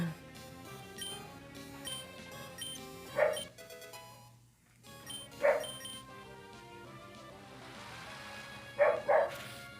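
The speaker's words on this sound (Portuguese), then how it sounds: "doido tá latindo de novo" Several sharp barks from a dog come in separate bursts against background music and game sounds from a Pokémon Emerald playthrough. The first two barks are single, and the last comes as a quick double bark near the end.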